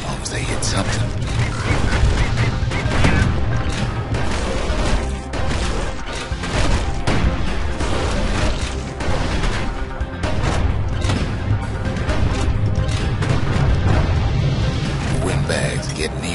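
Security skiffs in the game Bastion, firing dense, continuous gunfire with crashing impacts and booming blasts, loud and chaotic from start to finish, mixed with music and a voice.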